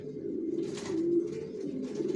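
Johnson racer pigeons coo in a low, continuous rolling drone, several birds overlapping close by with a steady swell and no pause.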